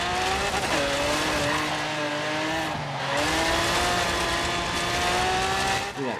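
Lamborghini engine in the Forza Horizon racing game, a steady high-pitched drone with rising and falling revs through gear shifts, plus a brief tire squeal near the end, close and continuous with no talk.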